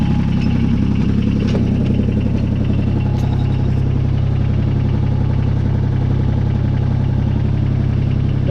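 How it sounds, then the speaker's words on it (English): Kubota BX22 compact tractor with a backhoe attachment, its small diesel engine idling nearby in a loud, steady, vibrating drone that holds unchanged from start to finish. "you can rock the tractor forward a little bit."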